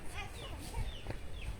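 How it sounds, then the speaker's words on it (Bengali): Chickens cluck and murmur steadily inside a large farm building, several birds overlapping at close range with a dense, busy background of fowl calls. "এত মুরগি আছে?"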